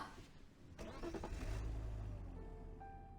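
A video-game car starts up and pulls away on a cold day: a brief ignition crank followed by a steady, mid-pitched engine hum that rises and then settles, fairly close, with no talking.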